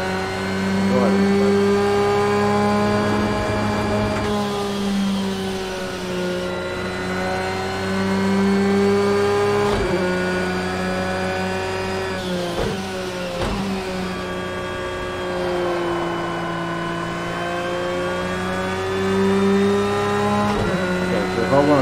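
A race car engine in Project Cars 2, droning steadily with tonal whine that rises and falls through gear changes, loud and continuous while someone talks over it.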